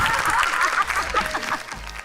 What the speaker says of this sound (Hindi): हाँ तालियां।